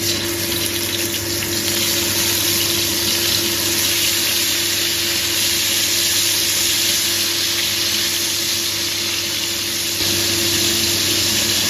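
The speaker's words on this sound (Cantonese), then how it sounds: "雞翼嗰啲醃好咗，而家可以煎啦。" Marinated chicken wings pan-fry in oil, giving a loud, continuous hiss and sizzle that holds steady close up with no talking.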